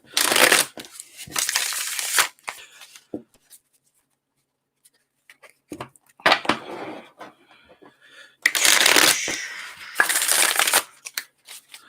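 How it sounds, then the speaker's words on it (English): A tarot card deck is shuffled by hand in bursts of crisp riffling and shuffling, with quiet pauses and a few soft taps between the rounds. "So these should be shuffled up pretty good, but a little extra."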